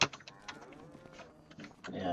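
Cattle in Farming Simulator 2025 let out short lowing moos at the start and again near the end, mid-distance and moderately loud, with game ambience and faint voices in between.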